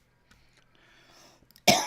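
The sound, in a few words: coughing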